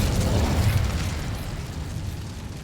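A fire spell explosion in Hogwarts Legacy bursts with a loud, low rumbling whoosh that fades gradually over a couple of seconds, with no talking.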